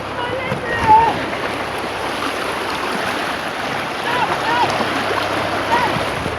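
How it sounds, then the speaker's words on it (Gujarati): A strong current on the Delwada river, heard as a continuous broadband rush of flowing water, steady and fairly close, with slight swells in loudness and no clear speech. "બહુ પાણી તાણ મારે."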